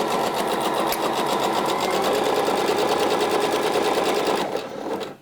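A sewing machine stitches a ruffle seam on a blouse, running loud and steady at close range with a rapid even needle rhythm, then slowing and stopping at the end.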